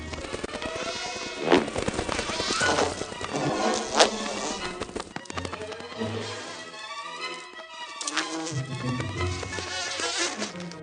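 Bees buzz around forest flowers in a continuous, fairly loud hum mixed with other busy natural sounds, without any talk.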